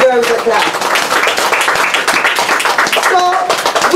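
An audience at an education event claps for the Ministry of Education, a dense burst of many hands clapping close by, with excited voices and cheering mixed in throughout.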